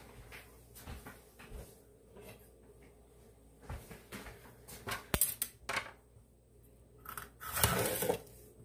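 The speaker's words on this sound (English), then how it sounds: "I'm going to get a better knife." Someone in a kitchen rummages for a knife, producing scattered clinks and clatters of cutlery and a cupboard or drawer knocking, with quiet gaps between bursts and a louder rattle toward the end.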